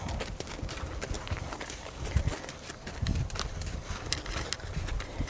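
A horse walking off during lariat training, hooves clopping in an uneven rhythm on the ground, moderately close, with faint background noise and no talk.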